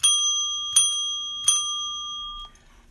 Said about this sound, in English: These are awesome bells. The way the clanger is and stuff.